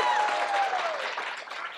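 A live podcast audience claps in a brief burst of steady applause, with a faint voice sliding under it.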